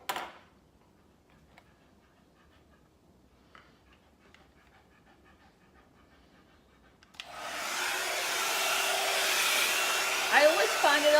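A Babyliss hot air volumising brush starts after a stretch of faint rustling and ticking, then runs as a loud, steady, close airflow roar to the end, styling curly, wavy hair at the back of the head.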